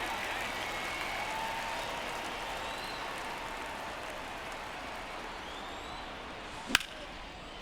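A stadium crowd murmurs continuously in the MLB The Show 24 baseball game, a broad distant roar that fades slightly, punctuated near the end by a single sharp crack.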